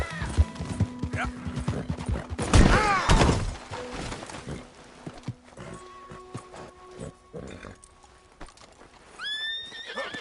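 A horse whinnies loudly, then hooves clip-clop at a gallop, with a second shrill neigh near the end over a busy game-like soundscape.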